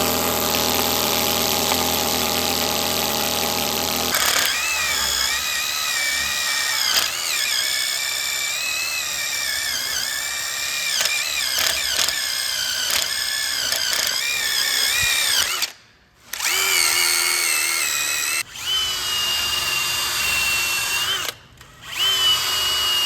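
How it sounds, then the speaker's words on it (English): A needle descaler chatters loudly and continuously against rusty brake parts on a 2013 Kia Sorento 3.5L AWD, its pitch wavering as pressure changes, with two brief stops near the end. "I use this needle descaler to get all the rough rust scale off."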